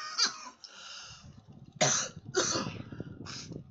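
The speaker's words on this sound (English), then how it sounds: "Oh, coughing sucks, I tell you that much." Several harsh coughs from one person close by, in short bursts spaced through a few seconds, with some background noise between them.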